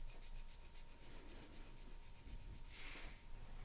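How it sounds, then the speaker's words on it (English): A nail file rasps repeatedly across a sculpted acrylic nail, giving steady, rhythmic back-and-forth rubbing strokes close up with no talking. "My first step in filing is straight out from the nail groove on the left."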